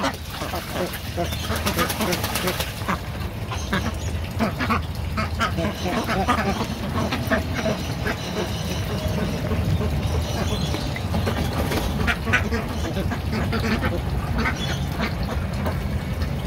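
Ducks of mixed colours, black, white and brown, quacking on a farm pond while they float and dip their heads, a steady busy chorus close by with people talking over it throughout.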